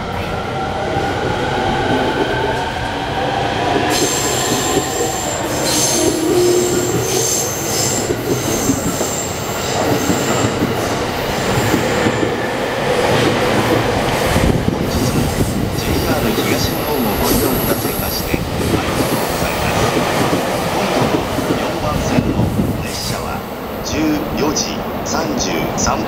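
A JR E231 series suburban-type commuter train, set U45 with upgraded equipment, pulls out of a station on a Shonan-Shinjuku Line rapid service bound for Kagohara. Its motors and wheels build into a loud rumble with squealing and clicking rail joints, and station announcements play over it.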